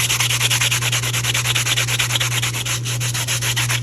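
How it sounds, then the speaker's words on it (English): A sanding block scrubs back and forth over the sharp edge of a cured resin piece, a close, rhythmic rasping of quick even strokes over a steady low hum. "I'm just taking my sanding block to the back."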